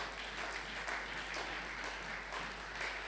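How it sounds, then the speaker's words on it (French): Congregation applauding and cheering during a Sunday church thanksgiving and praise service, a steady, fairly faint wash of clapping lasting a few seconds without pause. "Merci pour tes acclamations."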